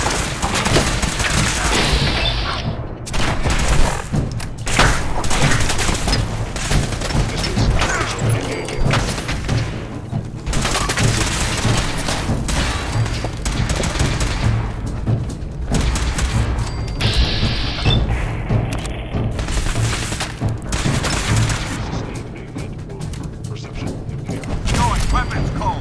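Sustained gunfire in a Fallout 4 fight against synths in a control room, with dense overlapping shots, thuds and crashing impacts rolling on loudly throughout, and voices occasionally breaking through the din.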